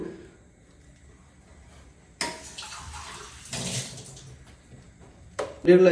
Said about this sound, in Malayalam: ഈ രണ്ട് ഗ്ലാസ് അരിക്ക് നമ്മൾ കറക്റ്റ് ഒരു നാല് ഗ്ലാസ് വെള്ളം ഒഴിച്ചാൽ മതി